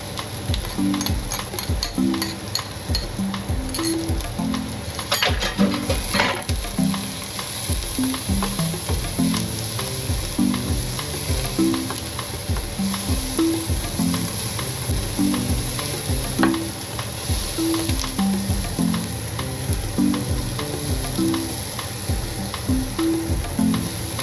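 Ginger and garlic frying in a pan for a vegan lentil dish: a steady sizzle under a regular scraping stir that repeats about once a second throughout.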